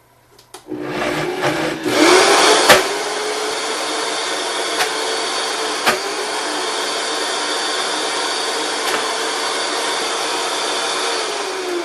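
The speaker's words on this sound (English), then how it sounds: "You want to make sure that all of the cashews are thoroughly ground." A food processor starts up with a few short pulses, then runs in a steady loud whirring grind as cashews are broken down, with occasional clicks and knocks from the bowl.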